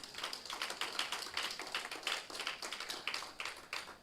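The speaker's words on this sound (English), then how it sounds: "Give a round of applause to our new family members this morning." A university orientation audience claps steadily for new students, a dense patter of many hands throughout, moderately distant and fairly quiet, with no voices.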